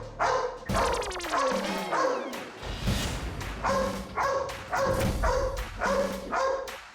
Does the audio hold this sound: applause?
no